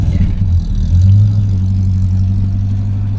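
A Leyland P76 taxi's V8 engine runs at a steady, deep idle with a low, even burble and a slight rise in revs partway through, close and loud with no talk.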